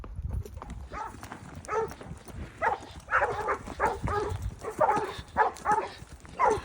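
Herding dogs barking while working livestock, with repeated sharp barks in an uneven rhythm at moderate distance, mixed with hoof clops and rustling outdoors, without talking.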